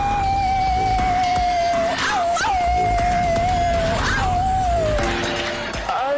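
Congregants at a church service mimic animals, a wavering high dog-like whine and howl carrying over a constant loud crowd din, with yelps and animal cries rising and falling for several seconds.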